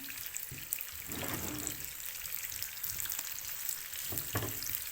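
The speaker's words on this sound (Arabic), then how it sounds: "هشوح البصل معاكم كده تشويحه كويسه بحيث ان هو يبدا يدبل خالص معايا" Onions sautéing in butter in a pan give a soft, continuous frying hiss with occasional louder stirring scrapes, close but quiet, with no one talking.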